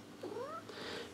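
A black cat gives a single short, rising meow, close and clear against a quiet room.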